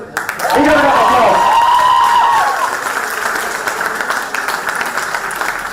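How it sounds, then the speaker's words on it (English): An audience applauds at a model parliament prize ceremony, with voices at the start before a steady, loud wash of clapping that carries on to the end. "Please give a good round of applause."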